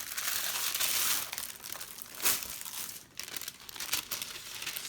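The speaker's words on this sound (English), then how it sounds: "Voila, this is a black carbon paper." Black carbon paper is handled and crinkled close by, a soft, continuous rustling and crackling with a few sharper crunches, fairly quiet with no voices.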